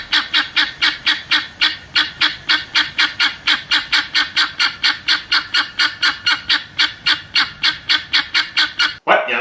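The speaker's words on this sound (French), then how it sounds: "Voici une pintade." Guinea fowl calling in a fast, steady run of about thirty loud, harsh, metallic cries, evenly spaced and close, with no talk.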